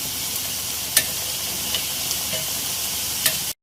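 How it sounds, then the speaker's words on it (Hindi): Atta biscuits, eggless wheat-flour tea snacks, frying in a pan as a steady sizzle with a few sharp pops and crackles scattered through it, close and continuous with no talking. "दोनों साइड से अच्छे से फ्राई होने चाहिए, इसलिए आपको इसको दोनों साइड से बहुत अच्छी तरह से फ्राई करना है।"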